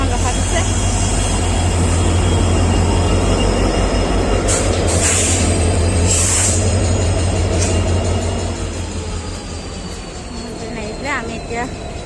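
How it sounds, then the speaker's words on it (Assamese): A train rolls into a station in Assam with a heavy low rumble, metallic screeches and squeals rising over it, the noise easing as it slows to a stop; people talk nearby. "আৰু তাতে আৰু এখন ট্ৰেইন আহিল"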